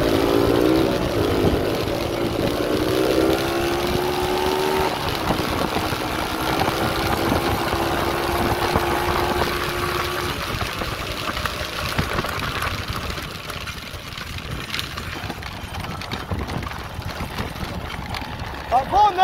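The small engine of a monkey bike motorcycle buzzes steadily while being ridden, a continuous droning whine that rises and falls slightly in pitch, with people talking over it.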